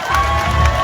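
A crowd at a political rally claps and cheers in a loud, brief, close burst of mixed applause and raised voices.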